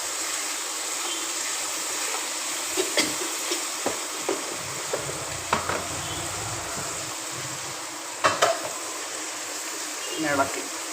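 Fried cauliflower for gobi manchurian sizzles in a pan with a steady hiss, broken by scattered clicks and scrapes of stirring; a voice is faintly heard at times.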